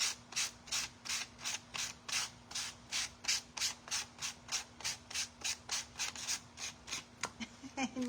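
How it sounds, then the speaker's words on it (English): Edges of cork and ceramic coasters being sanded by hand, heard as a close, regular series of about twenty rasping strokes in an even back-and-forth rhythm, with a faint steady hum underneath and no talking. "we're going to sand these edges"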